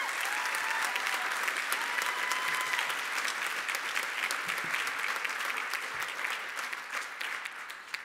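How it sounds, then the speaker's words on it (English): Steady audience applause for award winners at a college nursing pinning and commencement ceremony, a thick even patter of many hands that holds its level and then eases off slightly near the end. "Please give them a round of applause"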